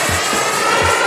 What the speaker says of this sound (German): J10 Turbine Jet with amazing power